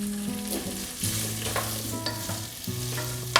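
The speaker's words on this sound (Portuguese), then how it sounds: "Nós vamos colocar então a calabresa, para ela dar para fritar um pouco, né?" Sliced calabresa sausage sizzles and fries steadily in a pan, with close crackling and occasional stirring clatter, loud and unbroken with no talking.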